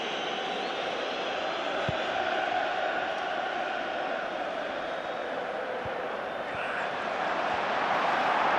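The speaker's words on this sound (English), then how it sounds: "The crowd are trying to get behind them." Stadium crowd at the 2012 FA Cup Final, Chelsea versus Liverpool, a steady roaring wash of thousands of voices urging the team on, broad and continuous throughout without distinct peaks.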